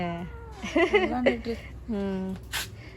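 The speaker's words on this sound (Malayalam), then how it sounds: "ഇത് നമ്മളെ പൂച്ചകൾ ഉമ്മാൻ്റെ കുട്ടികൾ ഗർഭിണിയാ തോന്നുന്നു" A cat meows a few times, close by, its calls mixed with a person talking quietly nearby.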